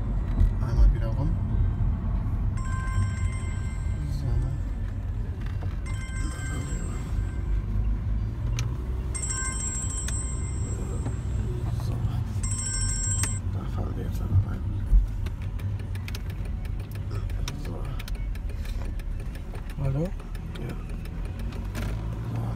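A car drives slowly around near a house, a steady low engine rumble throughout, with faint higher tones and background voices over it.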